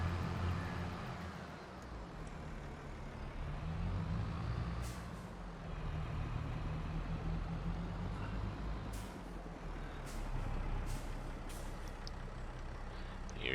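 A traffic truck rumbles past in Farming Simulator 22 on the Attingham Park map, a low steady engine drone with several sharp hissing air-brake releases scattered through it, fairly close and loud, with no talking.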